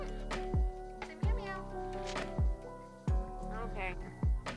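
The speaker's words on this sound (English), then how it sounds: "I'm getting meowed at." A cat meows repeatedly, five short, close calls spaced about a second apart, with a low steady hum underneath.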